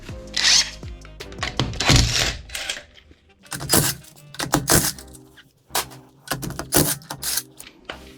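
Power tool with a 17mm socket spinning off the wheel bolts of an Opel Corsa D during a brake disc and pad job, loud close bursts of whirring separated by short pauses.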